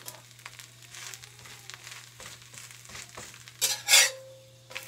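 A frozen parotta goes onto a hot dosa tawa without oil, a quiet kitchen with low hum and light clinks before a brief, loud burst of sizzling as it meets the surface.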